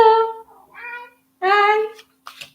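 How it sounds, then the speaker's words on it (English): A cat meows twice at close range, a longer drawn-out call followed by a second one, with a brief rustle near the end and no talking. "My cat just said hi."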